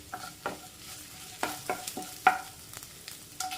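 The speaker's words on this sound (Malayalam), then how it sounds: "ഇനി തേങ്ങാക്കൊത്ത് ഇത് കുറച്ചും കൂടി സമയമെടുക്കും ഒന്ന് റോസ്റ്റായിട്ട് വരാം" Coconut pieces roast in a pan and are stirred. A soft crackle runs underneath a series of distinct spoon scrapes and taps, spaced irregularly, and the whole thing is fairly quiet and close. No one speaks.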